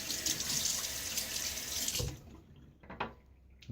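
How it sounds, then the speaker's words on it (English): A bathroom tap runs steadily as a safety razor is rinsed, a loud close rush of water that stops abruptly, leaving faint drips and small knocks afterward. "Okay, rinse time."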